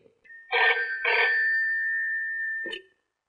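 A telephone rings with two short electronic trills that run into one sustained tone and stop abruptly, loud and close, with no voices.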